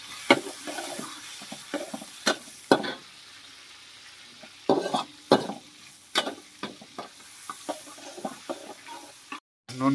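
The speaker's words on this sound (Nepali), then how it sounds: "फेरि यो टमाटर भुट्ने।" Tomatoes fry in a pan under a quiet sizzle, broken by sharp, irregular scrapes and knocks from a stirring utensil, close by and without speech.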